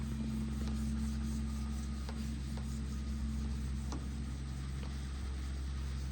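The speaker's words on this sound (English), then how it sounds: "You'll literally feel and hear a change in the strokes of the clay" Steady, close rubbing strokes of a clay bar over car paint, with a gritty, scraping texture, repeat at a slow, even pace over a constant low hum.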